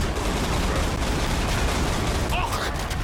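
A heavy-recoil gun fires in the Feudal Alloy video game, a dense continuous barrage of loud rapid shots blending into a steady roar for a few seconds.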